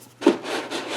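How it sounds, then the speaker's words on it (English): Hollow pipe axle sliding through the frame of a Power Wheels Baja Cruiser toy ride-on, heard as one close scraping slide with a sharp knock near the start, followed by a continued rubbing rasp. "we are sliding the axle through"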